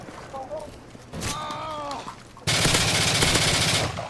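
Video game gunfire from Modern Warfare 3, a sustained loud burst of rapid automatic shots taking up the second half, after an earlier passage of voice-like tones.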